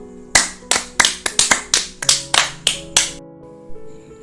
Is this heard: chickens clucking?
no